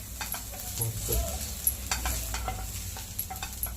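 Fenugreek leaves sauté in a pan, with soft sizzling and intermittent stirring scrapes heard close up, fairly quiet and without any talk.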